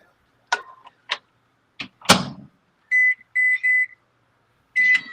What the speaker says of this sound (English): Somebody put something in the microwave for 3 minutes.